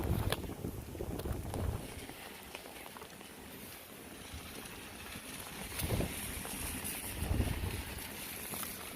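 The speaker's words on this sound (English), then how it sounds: "Oh, wind." Wind buffets a microphone outdoors on a rainy Philadelphia street in uneven gusts, with a soft rushing and rumbling backdrop and no clear talking.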